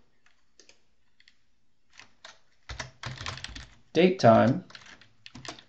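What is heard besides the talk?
typing code on a computer keyboard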